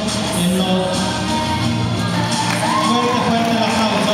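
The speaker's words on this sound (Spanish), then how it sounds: "fuerte el aplauso" Dense, steady crowd noise from an audience, with loud continuous cheering and shouts filling the space without pause, close and enveloping.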